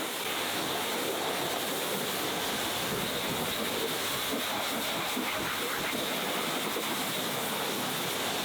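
Water sprays steadily over a Mercedes-AMG GT during a rinse, a broad continuous hissing rush at constant loudness with no pauses and no talking.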